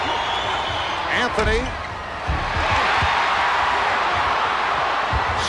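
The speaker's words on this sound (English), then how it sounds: "Crowd trying to get the Bulls revved up." Arena crowd at a Knicks versus Bulls NBA game in Chicago noisily cheers and roars to rouse the Bulls, a steady wall of crowd noise with basketball bounces and a commentator talking over it.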